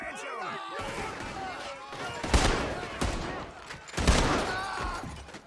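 Gunfire in the Red Dead Redemption 2 video game, a few sharp loud shots and bursts ringing out amid shouting voices and tense music.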